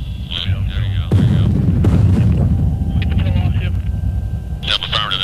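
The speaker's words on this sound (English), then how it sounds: "Actually, it was a pretty good explosion on it, looked like." Explosion of a missile striking its target, filmed from an AH-1 Cobra attack helicopter: a heavy booming blast with rumbling aftermath under steady aircraft noise, with radio voices talking before and after.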